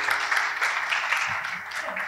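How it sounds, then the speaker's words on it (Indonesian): A church congregation claps together in steady applause, fairly close and even, continuing for a couple of seconds without a break. "Beri tepuk tangan buat mereka berdua."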